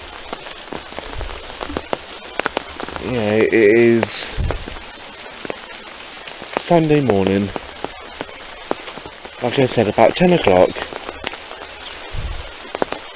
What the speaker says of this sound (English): out here in the rain getting completely wet and muddy